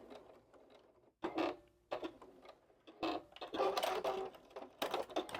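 A sewing machine back stitches at the edge of a quilted glasses case in short bursts. Quiet pauses separate the rapid, ticking runs, which are heard close up.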